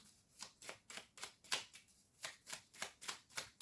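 Tarot cards being shuffled in quick, even riffles, about a dozen crisp bursts in a row, close and alone with no voice.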